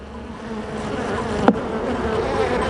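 Honeybees drone steadily from an opened hive during a warm-weather inspection, with a dense, continuous buzz close by and one brief sharp click partway through.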